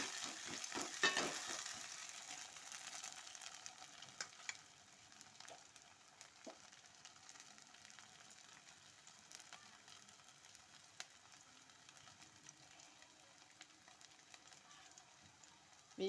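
Curry leaves frying and being stirred in a hot pan give a steady, moderate sizzle, loudest at first with a few sharp crackles, then settling into a softer continuous hiss.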